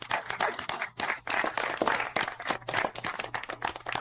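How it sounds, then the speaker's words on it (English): Uneven bursts of clapping from a few people during a live football show, with gaps between flurries and some faint background noise. "Clap."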